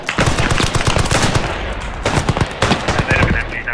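Rapid bursts of gunfire in the First World War shooter Beyond The Wire on the Vimy Ridge map, loud repeated shots in clusters with a brief lull midway, close and dense.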